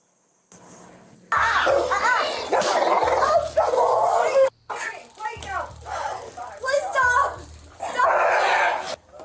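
A dog barks, yips and whimpers repeatedly at close range in a busy, loud scene, mixed with people talking.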